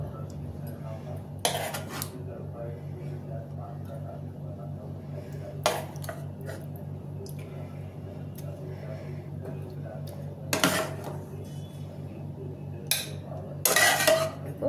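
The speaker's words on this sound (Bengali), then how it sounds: "প্লেটে আমি মাছগুলো তুলে নেব।" Cutlery clinks against a plate as cooked fish, a Bengali til doi bata macher jhol curry, is lifted onto it; a few sharp, separate clinks sit close over a steady low background hum.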